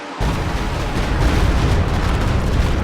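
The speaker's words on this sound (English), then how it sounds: "a Stuka, I think, not a great call. He's firing it for the first time now" A Stuka firing in a wartime strategy game, a loud sustained roar of blasts and rumbling booms that starts abruptly and carries on without pause.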